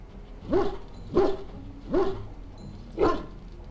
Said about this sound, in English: And here we have Dog, our warhound.